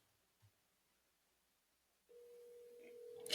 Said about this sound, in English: it's ringing. Let's see if he answers.